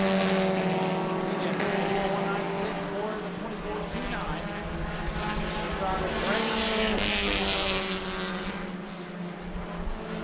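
Race cars lapping a track at a New Smyrna family fun night event, a dense, steady engine drone with rising and falling pitch throughout, a commentator's voice running over the roar.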